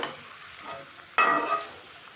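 Ritha fish eggs being sautéed in an oiled pan, a soft steady sizzle broken by a sudden louder scrape and hiss of a spatula stirring, close by.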